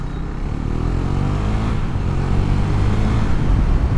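KTM Duke 390 motorcycle engine revving up close, a steady loud rasp whose pitch climbs and holds, with no talking over it.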